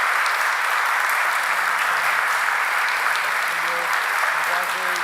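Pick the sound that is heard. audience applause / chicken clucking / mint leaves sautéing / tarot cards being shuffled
audience applause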